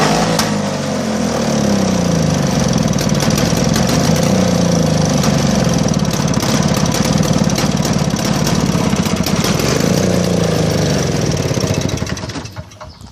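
A John Deere TRS 21 snow blower engine, just cold started and running on old gas, chugs loudly and steadily up close with a rough, pulsing idle that rises and falls a little, then fades at the end.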